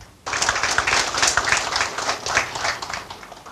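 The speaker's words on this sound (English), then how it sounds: "give them a resounding round of applause to express our appreciation for their visit to Palau" A round of applause breaks out suddenly at an official briefing in Palau with US congressional staff, dense clapping from a sizeable room sustained at steady loudness.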